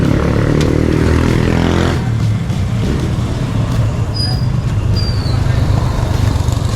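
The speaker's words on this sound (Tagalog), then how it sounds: "Lilipat ko lang yung tricycle sa kabila mga kautol." A tricycle engine runs at a close, steady, loud idle while the vehicle is shifted across a yard. Rough mechanical rumbling continues the whole time, with brief scraping and higher whines mixed in.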